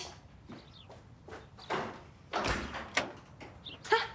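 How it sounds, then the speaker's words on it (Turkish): Someone knocks at the front door of a home in a Turkish drama scene: a few sharp, separate raps and thumps spread over several seconds amid quiet room sounds. "Kapı çalıyor."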